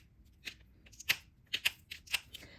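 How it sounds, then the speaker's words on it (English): Nippers snip a piece of mosaic tile into a rounded droplet shape, giving a series of sharp, crisp clicks and crunches in irregular rhythm, close and fairly quiet, with no talk. "And then I just nip it until it is more rounded."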